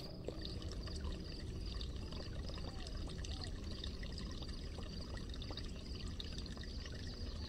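Water pours steadily into a tank while filling it in the farming video game Pumpkin Panic, a continuous trickling, splashing stream heard alone at moderate volume for several seconds.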